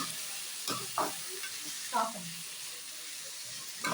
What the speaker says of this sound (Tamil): பண்ற வெங்காயம் நல்லா வதங்கிட்டு